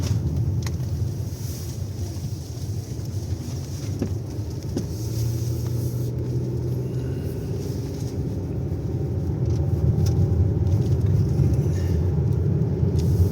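Car driving slowly along a village street, a steady close low engine rumble with road and wind noise throughout, no talking.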